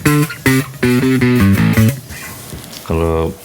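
A bass guitar plays a short slide solo lick, with separate plucked notes followed by gliding pitches and a final sustained note, loud and close.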